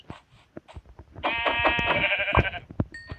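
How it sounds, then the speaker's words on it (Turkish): A sheep in a video game bleats once in a sustained, wavering cry lasting over a second, surrounded by sharp clicks and taps at moderate volume. "koyun mu var?"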